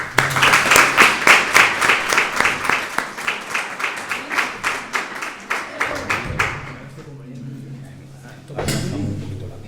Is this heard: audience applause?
yes